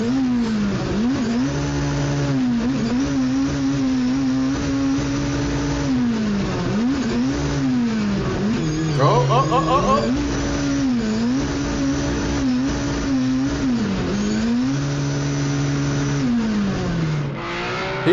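A drift car's engine revs hard and repeatedly on a mountain road, pitch climbing and dropping in cycles as it slides through corners, with a brief burst of tire squeal midway; loud, steady and with no talk.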